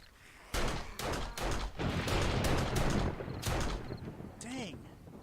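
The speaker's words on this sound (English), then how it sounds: "that's some long-range shooting from this pistol" Pistol gunshots in the video game 7 Days to Die: several sharp cracks fire at irregular intervals, loud and close, with talk running underneath.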